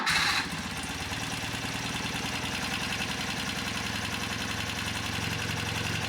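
A BMW motorcycle engine idles after a carburetor idle adjustment, a steady, even throb following a brief higher burst at the start, running alone without talk.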